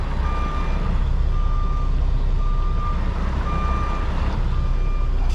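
A truck's reversing alarm beeps in a steady repeating pattern as it backs into a department store dock, over a constant loud diesel engine rumble, with no talking.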